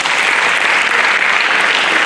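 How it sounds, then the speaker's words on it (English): An audience claps for an honoured guest at a lecture, a dense, loud, continuous wash of many hands without pause. "Please can we just please clap for him"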